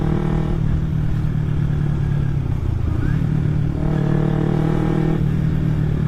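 Kawasaki Ninja 250 carbureted motorcycle fitted with an Akrapovic exhaust, running with a steady loud engine drone and a slight dip in revs near the middle before climbing back, heard alone without talk.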